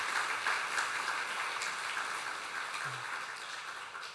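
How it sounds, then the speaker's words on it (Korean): A church congregation at a Sunday service claps in encouragement for a member just back from knee surgery, a faint, even patter of applause that slowly tapers off. "우리 박수로 한번 격려하도록 하겠습니다"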